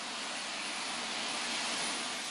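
A steady, loud, broadband jet roar from armed fighter jets taking off for an air police mission, sustained without a break and with no voices.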